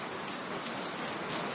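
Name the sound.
rain falling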